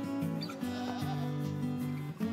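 A hungry young goat kid on a farm bleats in a continuous, loud, wavering cry that holds steadily through the moment, close to the microphone.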